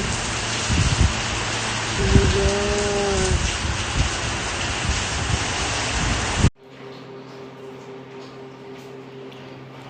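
Heavy rain pours and drums loudly during severe flooding in the UAE, a dense steady wash with a brief exclamation, before cutting to a quieter indoor hum.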